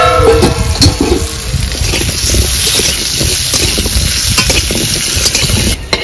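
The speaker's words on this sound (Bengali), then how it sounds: "আলুটা ভেজে নেব।" Potatoes fry loudly in a pan, a dense close sizzle with steady stirring and scraping running throughout.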